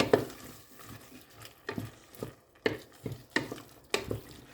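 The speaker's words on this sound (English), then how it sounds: "Keep on stirring to make the ingredients mix well." Goulash soup being stirred after tomato sauce and tomato paste go in, a spoon scraping and knocking the pot in a steady series of soft strokes about every half second, close and fairly quiet.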